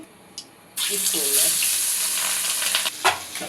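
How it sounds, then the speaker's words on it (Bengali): Hilsa fish frying in oil on a stove, a loud, dense sizzle that bursts in suddenly after a quieter start and holds steady, with small clatters near the end. "তেল ওই চুলায় মাছটা বাজছে"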